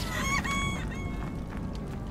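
Chickens in the video game Tom the Postgirl call, a few quick clucking and crowing notes close by, then softer fowl sounds trailing off over a low background rumble.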